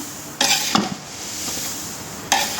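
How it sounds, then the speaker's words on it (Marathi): Poha chivda with sugar being stirred in a pan, a few sharp scraping clatters of a spoon against the metal over a faint sizzle, close, separated by quieter gaps. "पूर्णपणे हलवून घ्यायचं आहे चिवडा"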